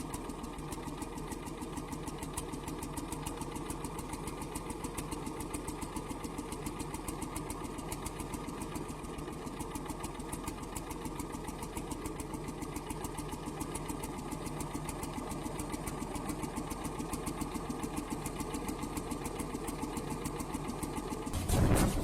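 A preserved Swedish hot bulb engine runs steadily in Hillerød, Denmark, with a continuous low mechanical drone and a dense rapid beat, holding an even level throughout until a brief louder bump at the very end.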